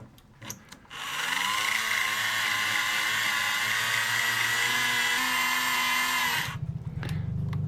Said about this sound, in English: I wonder if I got a dull drill bit going on here.